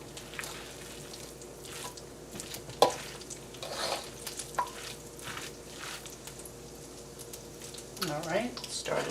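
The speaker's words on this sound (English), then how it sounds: "once you hear the spaghetti really sizzling nicely" Spaghetti sizzles and crackles in a frying pan for a frittata, faint and close, with intermittent stirring scrapes and a voice speaking now and then over the frying.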